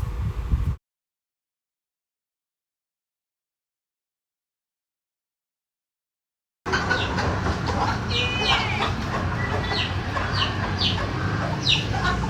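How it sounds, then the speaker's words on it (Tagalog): Free-roaming chickens on a Siargao homestead cluck and chatter in short, scattered calls against outdoor background noise, after a long stretch of silence. "Ang mga manok nga ni na Andy ay hinahayaan na nga nilang makawala ito, free roaming."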